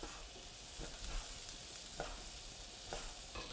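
Vegetables for fajitas sizzling and being stirred in a hot skillet, a steady quiet frying hiss broken by a few scraping stirs, heard close with no talking.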